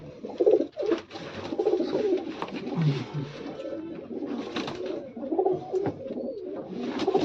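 Racing pigeons coo steadily and close by, soft throaty calls overlapping one another in a continuous, low warbling chorus.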